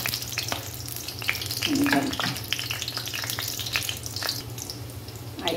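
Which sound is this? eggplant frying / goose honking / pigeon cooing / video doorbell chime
eggplant frying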